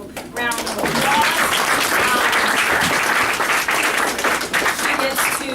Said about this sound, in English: So we'll round of applause.